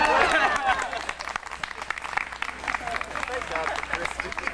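Guests at a 1993 union celebration clap together, a burst of hand claps mixed with crowd chatter and voices that stays busy and uneven, with talking running through the applause.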